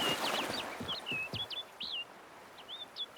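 Bird in The Witcher 3: Blood and Wine chirping a run of short, bright tweets and whistled trills, fairly close and clear over a low ambient rumble, with no talk.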